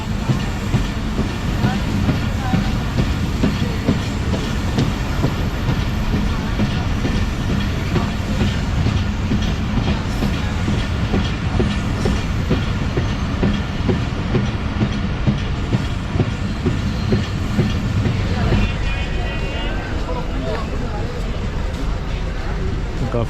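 The Jaffar Express passenger train running on the line toward Sibi Junction, a loud steady rumble with rhythmic clickety-clack of wheels on rail joints throughout, close and continuous.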